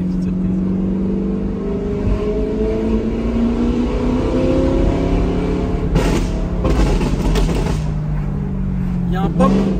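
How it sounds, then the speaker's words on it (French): Audi R8 engine revving hard with crackling exhaust pops, the rising and falling engine note loud and close, with a burst of sharp pops midway, while people talk over it. "Mais le son qu'elle fait, c'est le son de la Gallardo"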